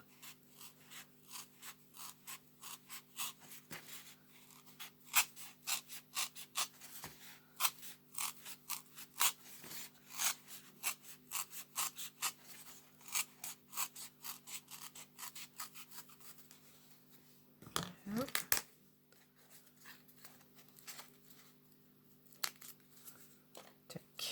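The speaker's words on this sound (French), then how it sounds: "Alors moi, je me sers du cutter. Donc, on fait déjà une petite encoche. Et puis ensuite, on suit le trait." A craft knife slowly cutting along a drawn line in paper for a poinsettia napkin ring, giving a long run of quick, faint scratchy strokes with a brief louder rustle near the end.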